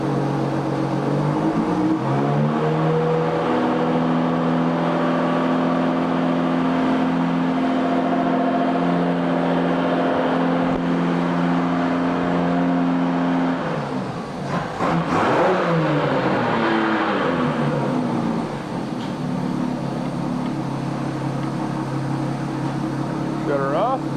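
A 2002 Volvo Penta 4.3L V6 Vortec inboard/outboard engine idles steadily on a stand, then rises briefly as the throttle is blipped and drops back to a smooth hum.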